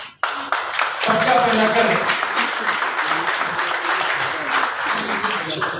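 Crowd claps loudly and steadily at a Valmiki Jayanti celebration in Delhi, sustained applause that starts abruptly after a brief spoken phrase and continues with voices mixed in.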